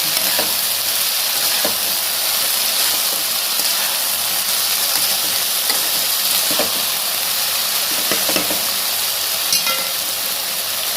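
Fish head frying in mustard oil for a Bengali dish gives a steady, loud, close sizzle and hiss throughout, broken by scattered pops and faint stirring clicks, with no talking.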